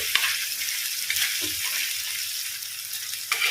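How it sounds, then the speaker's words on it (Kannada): Fish masala fries in hot oil in a pan, giving a steady close hissing sizzle with occasional soft stirring clicks and no talking. "ಒಳ್ಳೆ ಫ್ರೈ ಆಗಬೇಕು ಮಸಾಲೆ ಎಣ್ಣೆಯಲ್ಲಿ"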